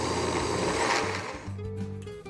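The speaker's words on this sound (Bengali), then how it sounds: "আমি উপরে একটা টাওয়েল দিয়ে ব্লেন্ড করে নিচ্ছি" A blender purees warm butter chicken gravy while a towel covers its lid, giving a steady loud motor whir that keeps running, then drops in pitch and steadies near the end.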